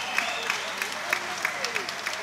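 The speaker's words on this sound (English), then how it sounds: "give a round of applause for these competitors" A fight-night audience gives the competitors a steady round of applause with murmuring and voices under it, a moderate, continuous wash of clapping through the whole stretch.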